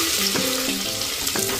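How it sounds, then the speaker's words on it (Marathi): Mustard seeds crackle and pop in hot oil with garlic, cumin and ghee for masala bhat, a steady close sizzle broken by a few sharp, brief pops. "तडतडती मोहरी"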